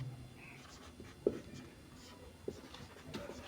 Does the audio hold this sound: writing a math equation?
yes